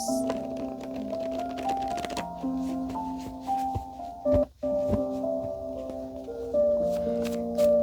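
Playing cards being shuffled by hand up close, a series of quick riffling and tapping bursts separated by short pauses, fairly quiet with no talk.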